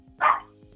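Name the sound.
dog barking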